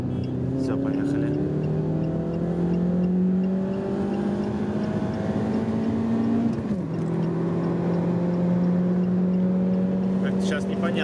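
A Lada Priora racing a Kia Cerato 2.0 automatic, heard from inside the Priora as a loud engine drone rising steadily in pitch through two long pulls, with a short dip at a gear change before climbing again.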